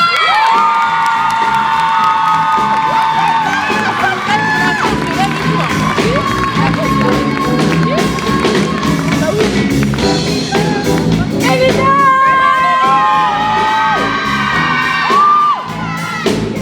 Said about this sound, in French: Alors encore un grand merci à eux et un tonnerre d'applaudissements.